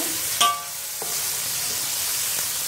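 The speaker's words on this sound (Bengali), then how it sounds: "পেঁয়াজগুলো আমি বাদামি করে ভেজে নেব।" Onions fry until brown in a pan for a country-chicken and papaya curry, giving a steady close sizzle broken by a few sharp clinks of stirring, with no voices.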